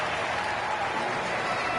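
Crowd applause and cheering in an NBA 2K26 basketball game arena, a dense continuous wash of clapping and crowd noise, steady and fairly loud throughout.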